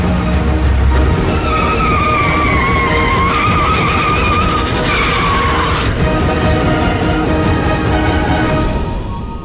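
A car loses control on a punctured tyre, tyres squealing loudly with a wavering high screech over steady engine and road roar for several seconds before fading out.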